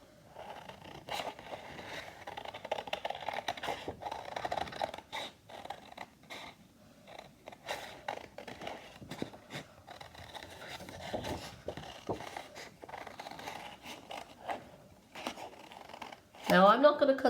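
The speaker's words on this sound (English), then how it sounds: "time for me to cut with my big scissors" Big scissors cut through paper in a run of short snipping and scraping strokes, faint and close, with a person talking over much of the cutting.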